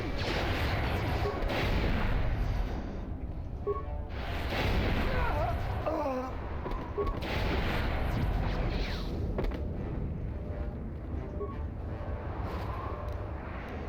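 Blaster fire in the Star Wars: Knights of the Old Republic video game comes as repeated sharp shots and booming bursts, dense and continuous, with faint voices in the mix.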